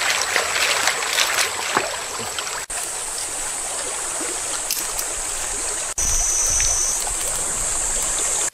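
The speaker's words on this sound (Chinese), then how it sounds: "把这个锅洗一下" A cooking pot is washed by a river outdoors, with continuous close water splashing and trickling over a steady flowing-stream background.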